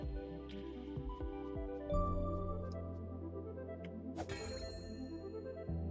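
A bell rings as part of a video game puzzle, with small chimes and ticks over a steady sustained game tone. One brighter bell strike stands out partway through, all heard without talking.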